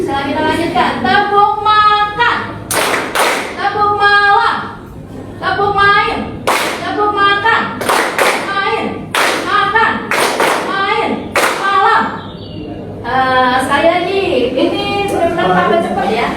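Sharp hand claps from a group playing the Tepuk Makan clapping game, struck in short rhythmic bursts that alternate with sung or chanted voices, fairly close and loud.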